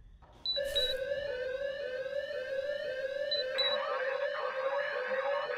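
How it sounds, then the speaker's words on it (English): House alarm in the Thief Simulator video game blaring continuously, a steady electronic tone with shrill high pulses, loud and close, ringing on alone for several seconds. "I wonder if I hit the alarm, does it make"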